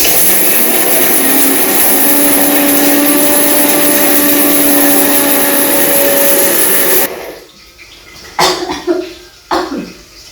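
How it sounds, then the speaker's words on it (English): Electric grinder whirring loudly and steadily while grinding dry red chili, then cutting off abruptly, followed by a few short rattling knocks. "I have put it inside the grinder. Wait, and now let's go for grinding."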